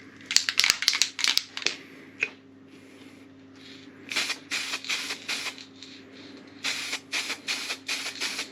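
Spray paint hisses in short bursts as gold is applied to a 1:10 scale model boat keel, a quick cluster of sharp sprays followed by longer rhythmic blasts, close and without talk.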